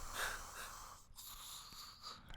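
A voice imitates an old man softly snoring in his sleep, a few breathy, wheezy snorts with a raspy hiss, close and fairly quiet, with no other sounds.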